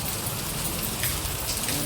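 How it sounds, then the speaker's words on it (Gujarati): Steady rain falling and pattering on surfaces, a dense continuous hiss close by throughout, with no other clear sound on top. "મારા બેટાનો વરસાદ આવવા માંડ્યો"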